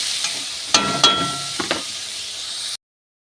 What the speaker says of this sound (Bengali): পেঁয়াজগুলোও ভাজা হয়ে যাবে